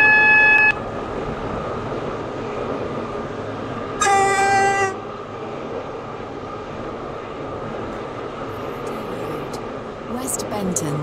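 Class 730 train driven on the Waterline from Newry to Connolly in Roblox Stepford County Railway: a steady rolling rumble with a short electronic beep at the start and a loud two-second horn blast partway through.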